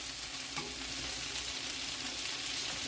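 Small chunks of venison sizzle and fry steadily in a hot pan, a continuous close crackling hiss with a faint stir or scrape near the start.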